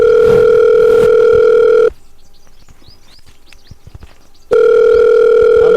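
A telephone ringback tone during a phone call, a loud steady tone lasting about two seconds, a pause of a few seconds, then the tone starting again.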